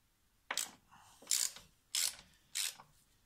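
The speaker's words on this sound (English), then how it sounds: "get yourself a T45 like this on a ratchet" Four separate ratcheting bursts from a ratchet driving a T45 bit on a BMW six-cylinder engine, each a short run of quick metallic clicks with pauses between, close and fairly clear.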